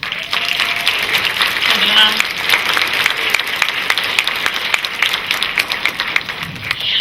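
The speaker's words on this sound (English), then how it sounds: "Give him one more round of applause." An audience applauds at a high school symphonic band winter concert, sustained crowded clapping rolling on evenly from start to finish with a faint voice briefly audible beneath it.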